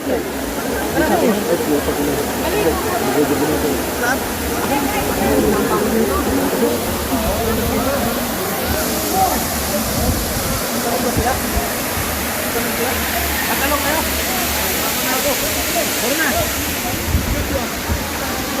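Bolinao Falls 1, a waterfall, pours with a steady, broad rush of water that holds an even loudness from start to finish, with no clear voices over it.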